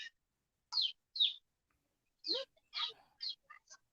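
Bird calls play from a child's tablet as a series of short, bright chirps and tweets in separated bursts, fairly faint against otherwise near silence.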